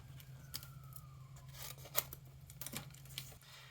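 A paper corner of a pocket calendar being trimmed with scissors, giving a few quick snips and a soft tearing crinkle over a steady low hum, close and fairly quiet, with no talking.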